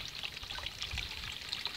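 Water poured over someone's feet to wash them, a steady splashing pour and trickle running continuously and fairly close throughout.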